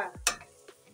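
A spoon stirs a pot of Kenyan githeri with peanut butter, one quick scraping stroke and a couple of soft knocks, close and fairly quiet.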